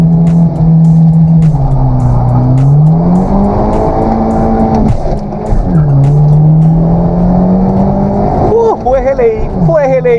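A Hyundai Genesis Coupe 2.0T drag races a Volkswagen Jetta GLI Stage 1 MK4.5 1.8 Turbo. Loud, close engine drones rise in pitch through the gears, with brief shift dips and later a faster, wavering rev, under excited voices.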